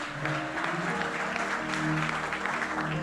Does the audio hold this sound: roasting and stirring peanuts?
no